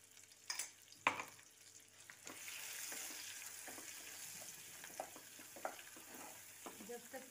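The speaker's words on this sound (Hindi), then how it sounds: "मसाला डालने के बाद इसको थोड़ा सा फ्राई होने देंगे" Ground spice masala frying in hot oil for a king oyster mushroom sabji, a steady close sizzle broken by a few sharp spoon clinks and stirring scrapes, with no talking.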